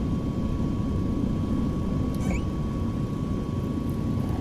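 A light aircraft engine in Microsoft Flight Simulator 2020 spooling up on the runway at Gibraltar before takeoff, a steady low droning rumble with a constant whine above it and a brief squeal partway through, with no voices.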